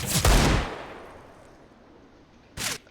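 Desert Eagle pistol shots ring out in a Counter-Strike match: one sharp report followed by a long fading echo, then a second shot near the end, loud and close with no voices over them.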